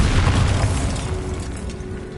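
A Bombarda spell explodes in the video game Hogwarts Legacy, a loud, heavy boom with a rumbling low burst that holds steady and slowly fades over two seconds.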